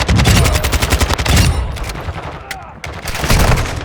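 Rapid bursts of automatic video-game gunfire rattle loudly and close, in dense repeated volleys that pause briefly and then resume.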